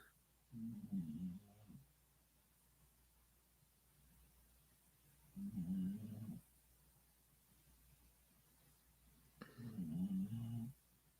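Snoring, three slow, low, rasping breaths spaced several seconds apart, close and fairly quiet over a faint steady background hum.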